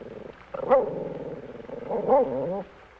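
A hunting dog on the scent gives two close bouts of whining, yelping barks, each rising and falling in pitch, with a short quiet stretch between them.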